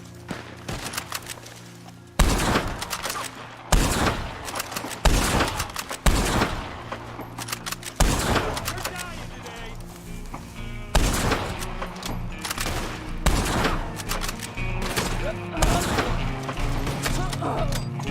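Gunfire in Red Dead Redemption 2 online: repeated loud shots ring out in irregular bursts, close and punchy with echoing tails, continuing steadily for many seconds over a low ambient bed.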